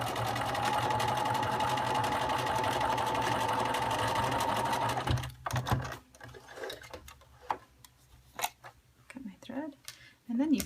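Sewing machine back stitching quilt binding with a steady close whir for about five seconds, then stopping, followed by scattered clicks and handling of fabric.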